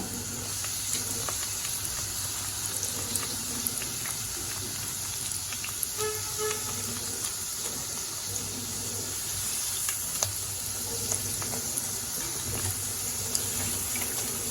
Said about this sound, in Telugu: బ్రెడ్ పీసెస్ వేసి వేపుకుంటున్నాను